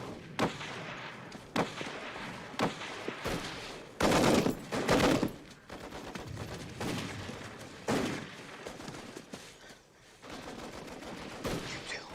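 Machine guns and rifles fire on a World War I battlefield, loud sharp bursts and single cracks recurring irregularly, with heavier blasts in the middle and no talk.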